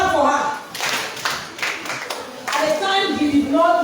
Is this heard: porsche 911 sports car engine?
no